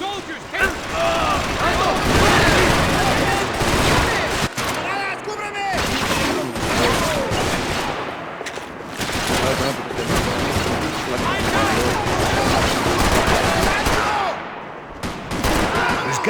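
Dense gunfire from the video game Max Payne 3, with rapid bursts and repeated shots packed together throughout and frequent shouted voices mixed in.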